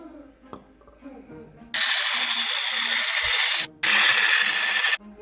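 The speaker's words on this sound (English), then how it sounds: "Add egg one at a time and beat it with an electric mixer." An electric hand mixer beats eggs into chocolate crinkle batter, whirring loudly in two close bursts of about two and one seconds, separated by a brief pause.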